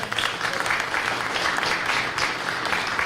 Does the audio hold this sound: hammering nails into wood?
no